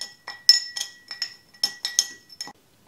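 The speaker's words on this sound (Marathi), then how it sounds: "तर इथे मी हे सगळं साखर विरघळेपर्यंत याला छान मिक्स करून घेतलं" A spoon stirring sugar into lemon masala soda in a glass, about a dozen bright clinks in an uneven rhythm, close and clear, then stopping.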